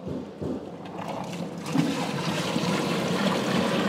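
Water pours into a small, low-cost washing machine tub, a steady close gush and splash that grows fuller and louder as the stream continues, with no talk.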